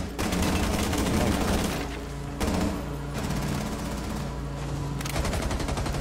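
Rapid automatic gunfire in the Rainbow Six Siege shooter, loud sustained bursts broken by short pauses, with a player's voice faintly mixed in.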